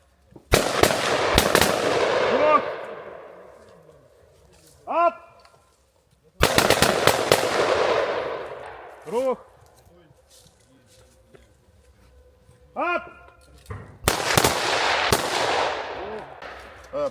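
Three loud gunshots about six seconds apart, each with a long echoing tail, followed by faint metallic pings of ejected casings.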